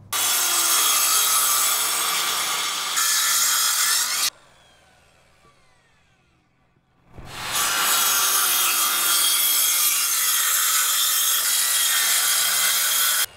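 Wood is sawn in two long, loud, continuous bursts separated by a quiet pause of a few seconds, close up and with no speech.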